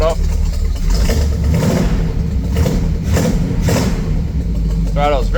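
A Buick 455 V8 runs with a loud, deep, rumbling roar that swells slightly with throttle blips. Close up, with someone talking over the engine throughout.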